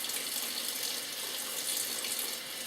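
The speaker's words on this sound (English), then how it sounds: "I'm going to fill the pan up first with" A kitchen tap runs steadily into a pan, filling it with lukewarm water in a continuous, even splashing rush heard close and alone.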